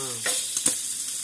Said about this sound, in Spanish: Voy a poner un poquito de sal gorda aquí en la misma